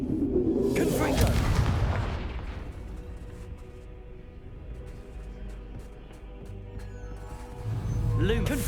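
Confringo blasting spells in Hogwarts Legacy go off as deep booming explosions, one loud blast near the start and another at the end, with rumbling game sound between.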